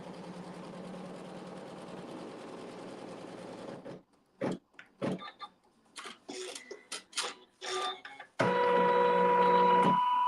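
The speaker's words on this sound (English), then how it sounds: "here we're going to do a tack down stitch that's going to be on the edge of the block" An embroidery machine sews a tack-down stitch along the edge of a quilt block, running loud and steady with a dense mechanical whir, pausing into a stretch of stop-start clicks and short bursts, then resuming its full run.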